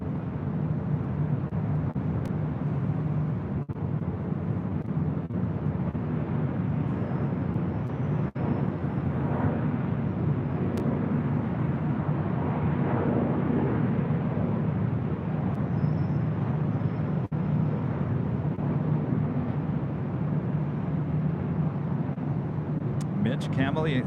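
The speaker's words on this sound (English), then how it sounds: "The A340-300 also lighting up. She likes to take off here on the north side." A Lufthansa Airbus A340-300 takes off from the north side at LAX: a steady, distant broadband jet roar that swells slightly midway and holds throughout.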